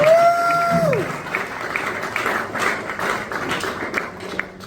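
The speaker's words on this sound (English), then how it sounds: "round of applause for you guys for all showing up" An audience at a last-minute gathering breaks into applause, opening with a brief high tonal whoop over the clapping, then settling into uneven, lively hand claps that thin and pulse toward the end.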